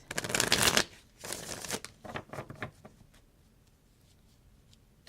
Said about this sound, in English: Let me just shuffle them one more time.